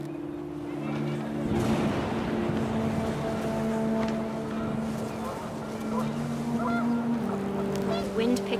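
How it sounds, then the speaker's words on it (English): Panicked geese in What Remains of Edith Finch honk and flap amid gusting wind, the calls layered under a steady droning tone and a voice speaking over them. "Wind picked up, and panicked geese appeared and quickly went."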